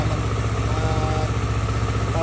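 Motorcycle engine idling steadily at close range to warm up before a ride, a continuous even mid-low drone with no revving.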